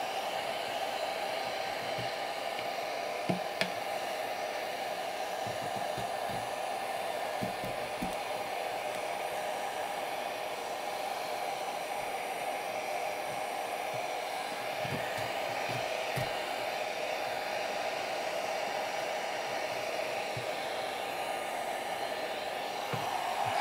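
A hair dryer blows a constant, even whir while heating a matte black ABS spoiler on a Tesla Model Y, running steadily for over twenty seconds with a few faint knocks and handling taps underneath, no voices.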